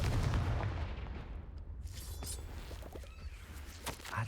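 Confringo fire-blast spell in Hogwarts Legacy, a single heavy booming burst at the start that decays into a long rumbling tail with scattered crackles, fairly quiet overall.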